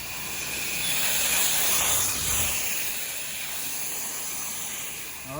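A pressure washer sprays in rinse mode from a balcony during a roof and house wash, a steady loud hiss that swells and eases slightly over several seconds, no talking.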